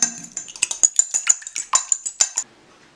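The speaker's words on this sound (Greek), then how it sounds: "θα χρειαστούμε ένα ασπράδι, γιατί εμείς θα κάνουμε μια μικρή ποσότητα, θα το χτυπήσουμε λίγο με ένα πιρούνι" A fork beating egg white in a bowl for royal icing, a quick, steady run of about twenty close metallic clinks against the dish that stops abruptly near the end.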